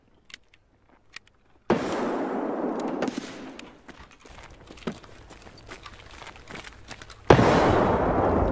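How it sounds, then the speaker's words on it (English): Grenade blasts in Escape From Tarkov, a loud burst near two seconds with a long rumbling tail, scattered crackling shots, then a second heavy explosion near the end. "Another nade."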